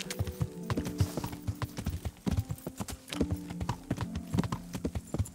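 Horse hooves clip-clopping in Kingdom Come: Deliverance, a steady, close, rhythmic beat of hoofsteps that carries on through the whole stretch with no talk over it.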